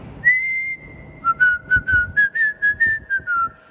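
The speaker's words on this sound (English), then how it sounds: "Whistling because I'm thinking I'd love to shoot a video there" A person whistles a tune alone: one long held note, then a run of short, evenly spaced notes bouncing gently up and down in pitch, clear and close.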